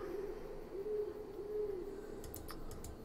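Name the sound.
owl hooting in video game Haunted Legends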